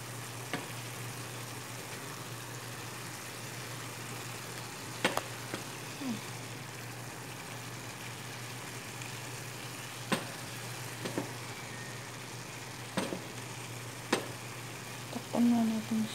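Bean sprouts (togue) fry in a pan for homemade ginisang togue, giving a steady, even sizzling hiss with a few sharp clicks of a utensil scattered throughout.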